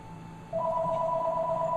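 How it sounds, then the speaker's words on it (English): A telephone rings in Xenoblade Chronicles 2, a steady electronic warbling tone that starts half a second in and repeats in quick pulses, loud and close with a faint hum beneath. "And that is to have the phone ring 100 times."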